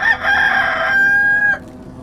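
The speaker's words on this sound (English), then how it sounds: "my rooster's right here" A rooster crows once nearby, a loud, strained cock-a-doodle-doo lasting about a second and a half over faint background noise.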